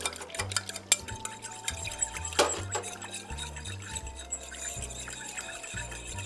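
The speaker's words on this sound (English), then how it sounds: "Go ahead and take our fork and just kind of mix that up." A fork mixes wet cake batter ingredients with vanilla in a bowl, making faint, irregular scraping and clinking under quiet background music.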